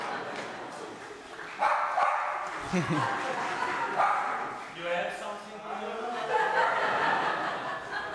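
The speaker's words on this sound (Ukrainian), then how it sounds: "Бо собака щось залаяла." A dog barks a few times at a public award ceremony, the sharp yips standing out close by among people talking and a bit of laughter.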